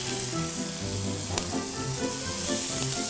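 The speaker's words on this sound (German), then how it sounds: "schnell in die Pfanne rein, schnell wenden und dann auch wieder schnell raus" A rack of lamb sears in a very hot pan on an induction hob with a booster, giving a loud, steady, close sizzle throughout and a brief sharper crackle partway through, with nobody speaking.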